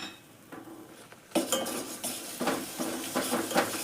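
Powdered coconut, poppy seed and cardamom tipped into a pan for sweet potato obbattu filling, then stirred with a spoon: a quiet lead-in, followed by repeated close scraping clinks of metal against the pan.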